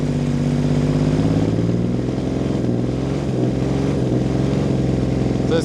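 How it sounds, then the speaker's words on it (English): A 1980 Honda CBX1000 inline six-cylinder motorcycle with a six-into-six exhaust idles loudly while warming up, giving a close, steady, smooth engine drone with no talking. "So it's quite loud with the 6x6 exhaust system. It sounds absolutely fantastic."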